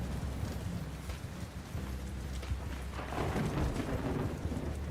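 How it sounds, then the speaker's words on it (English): Thunder rolling during a battle in the video game Bannerlord Online, a low sustained rumble building toward the end beneath rain-like hiss, with no voices. "Oh, we got a bit of thunder in the battle today."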